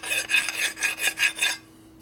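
A hand file rasps across the cooling fins of a 1978 Harley-Davidson Shovelhead cylinder head in six rhythmic, close strokes, then stops into near silence.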